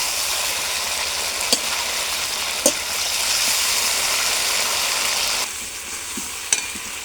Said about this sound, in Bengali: জলটা কষাবো না, তেলের কষায় নিচ্ছি